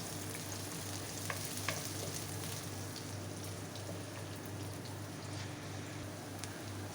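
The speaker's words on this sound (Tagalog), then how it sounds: "And then we put our onions. So we keep this until golden brown." Onions sizzle steadily in a frying pan for spring rolls: a soft, continuous crackle with occasional pops over a low hum, with no talking.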